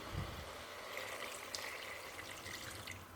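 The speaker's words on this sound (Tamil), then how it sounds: "இப்போ கொஞ்சமாக தண்ணி சேர்க்கலாம்." Water pours and splashes quietly into a pan of frying mutton tripe gravy, a soft continuous trickle with faint sizzling texture.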